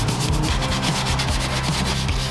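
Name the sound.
scrubbing engine bay with a cleaning brush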